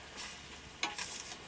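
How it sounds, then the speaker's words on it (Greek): Water boiling in a cooking pan on Christmas day in a village kitchen, a faint bubbling hiss with a few soft clinks, no talk over it. "Αυτή βράζει, δεν είναι τηγανιά."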